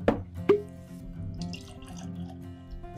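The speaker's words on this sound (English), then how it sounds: "Let me pour some of this out to breathe before we start getting into more details." Rebecca Creek Double Barrel Spanish Oak whiskey is poured into a glass, a close liquid trickle with a couple of sharper drips and splashes at the start, quiet overall.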